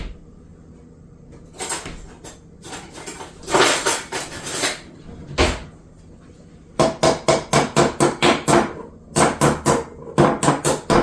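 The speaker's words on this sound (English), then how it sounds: "knock it with one of the knives, like the knife handles" Sharp hard knocks of a knife handle on a jar lid, irregular at first, then a quick steady run of raps, near and loud, with no talking.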